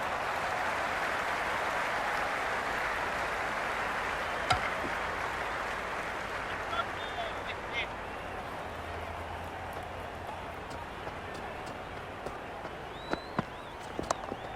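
A steady roar from a simulated stadium crowd in the Cricket 26 video game during a Big Bash League match, sustained cheering that eases slightly over time, with a few sharp knocks near the end.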